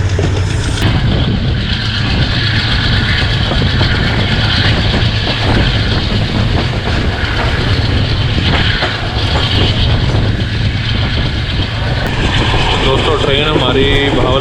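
The 25UP Zakaria Express train travelling from Karachi to Multan, heard from inside as a steady, loud rumble with rhythmic clickety-clack of wheels on the rails throughout, while people talk over it.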